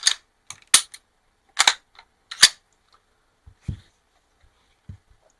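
Smith & Wesson M&P 2.0 full-size pistol being reassembled, with a run of sharp metallic clicks and clacks as the slide locks back, the lever flips and the slide releases, then a few softer handling taps, close and alone.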